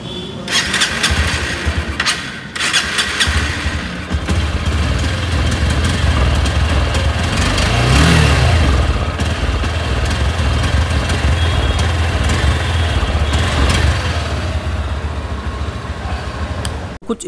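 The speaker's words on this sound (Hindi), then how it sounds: "कुछ इस तरीके का एग्जॉस्ट नोट आपको इस बाइक का सुनने को मिल जाता था" A 2024 Honda Hornet 2.0 motorcycle engine starts and settles into a loud, throaty idle with a steady rumbling exhaust, revving slightly midway.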